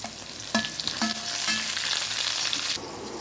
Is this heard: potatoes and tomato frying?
yes